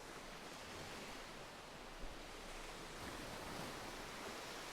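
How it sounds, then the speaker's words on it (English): Sea waves wash below a spot right above the water, a dense, steady hiss of surf with faint wind, even and continuous with no talk. "Right above the water. Maybe you can hear the waves."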